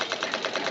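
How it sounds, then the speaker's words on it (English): A machine gun fires a steady rapid burst at an enemy aircraft from a submarine's bridge, loud and continuous for under a second. "I rushed to the bridge, manned the machine gun, and began firing at the enemy aircraft."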